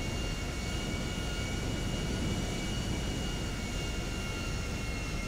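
A Learjet flies low around a military base and runway in GTA V Online, its jet engines producing a steady, loud broadband roar that holds constant throughout with no talking.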